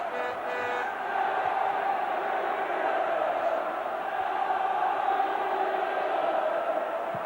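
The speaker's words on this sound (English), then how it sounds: "Home crowd lifted for the first time" A home football crowd at a 1993–94 FA Cup match between Norwich and Manchester United gives a broad, distant roar that swells and holds steady across the whole stretch, with no commentary over it.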